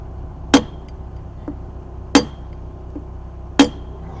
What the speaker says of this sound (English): Mushroom the head of that rivet.